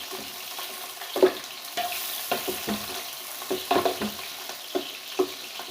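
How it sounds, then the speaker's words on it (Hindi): Onions fry in ghee for beef yakhni pulao, a soft steady sizzle broken by repeated scraping stirs of a spoon in the pan, fairly close and without talk. "अच्छे से इसको घी में फ्राई करेंगे जब तक कि इसका कलर गोल्डन ब्राउन ना हो जाए।"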